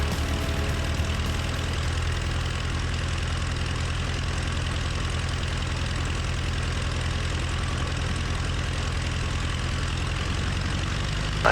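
A small single-engine aircraft's engine drones steadily and close on a large runway, a continuous loud hum with mixture set rich and the throttle rolling on for takeoff, with no talking.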